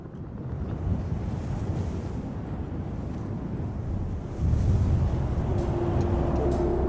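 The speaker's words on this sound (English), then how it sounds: "Oh my God, the wind is crazy today." Strong wind roars across the microphone at an outdoor desert site in Egypt, a constant heavy rumble that swells louder partway through, with no talking.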